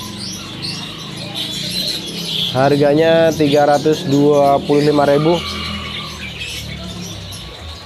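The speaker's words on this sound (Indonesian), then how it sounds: "Kalau untuk berikutnya ini yang kenari loper yang sudah gacor door teman-teman" Canaries (kenari loper) chirp and trill in the background of a bird market stall, a steady bright chatter from many birds, while someone speaks over them in the middle.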